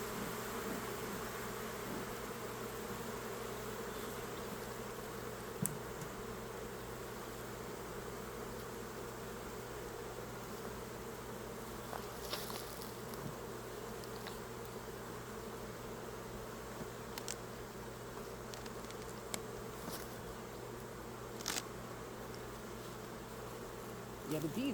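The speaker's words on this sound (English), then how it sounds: "Yeah, the bees flooding out this one." Bees swarm thickly out of a beehive box during a hive inspection, a steady dense buzzing drone that fills the whole stretch, with occasional nearer individual bees passing close by.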